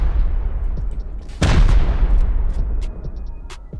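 A rocket blast booms out abruptly during a Rust raid and lingers as a broad rumbling roar over low background noise, with no talking.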